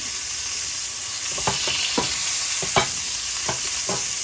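Pork filets searing in a hot pan, a continuous loud sizzle broken by several sharp utensil scrapes and taps, close up.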